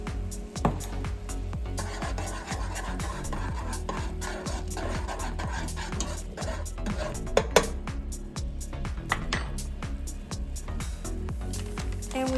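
Onions and garlic being stirred in a pan for udon noodles, with steady close scraping and frequent metallic clinks of a utensil against the pan throughout.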